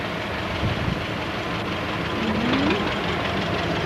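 A 1951 Oliver tractor engine runs at a steady idle in a Memorial Day parade, a continuous low rumble with faint street noise and no talk.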